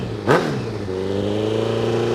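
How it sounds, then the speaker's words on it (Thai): A modified 2019 Honda CB650R motorcycle exhaust snaps through a quick, sharp rev, then settles into a steady, close idle drone. "มาฟังเสียงท่อกันครับ"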